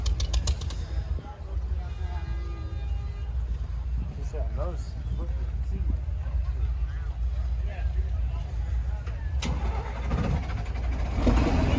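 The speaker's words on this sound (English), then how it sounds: "here's an MD that is still started on gasoline and then he switched to diesel" An MD tractor at a Midwest old-time tractor show, started on gasoline and then switched to diesel, idling with a low steady rumble throughout, with people talking nearby.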